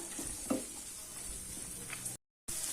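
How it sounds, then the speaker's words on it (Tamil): Vegetables for lemon rice sauté in a pan with curry leaves and turmeric, giving a steady close sizzle with a few stirring scrapes, and a brief dropout near the end. "இப்போ காய் பருவம் நல்லா வதங்கிடுச்சு"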